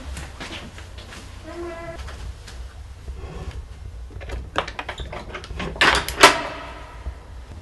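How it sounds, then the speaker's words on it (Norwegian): A door is unlocked and opened indoors at night, with faint clicks and rustling building to a louder latch clatter and creak near the end; a short tonal chirp sounds early on. "Ja, vi skal åpne døra."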